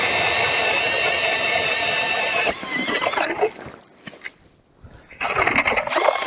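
A cordless drill fitted with an ice auger whines at a steady high pitch as it bores, then grinds and sputters to a stop before revving up again, close by.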